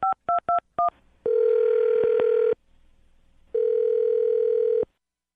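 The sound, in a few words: telephone dialing tones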